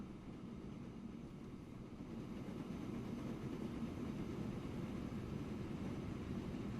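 A Big Boy steam locomotive gathers speed in the Transport Fever 2 simulation game, giving a continuous broadband rumbling roar. The rumble grows a little louder and fuller after the first couple of seconds and stays steady with no voices.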